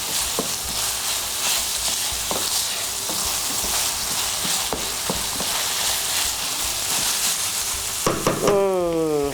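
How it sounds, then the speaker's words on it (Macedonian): Finely chopped leek sizzles steadily in a pan while a utensil stirs it, giving occasional scraping clicks over the constant frying hiss. "Не му треба многу пржење."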